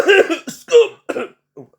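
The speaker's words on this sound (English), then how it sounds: "I just had the cough there" A short burst of several harsh coughs close to the microphone, the last one weaker and trailing off.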